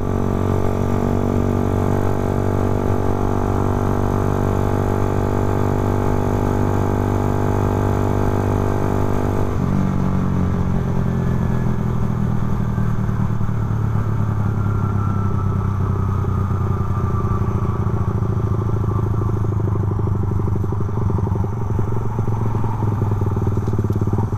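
A Honda Sonic 125 motorcycle engine runs steadily while being ridden, a close, continuous drone with a gear change partway through, after which the pitch settles lower and rises gradually; no one speaks.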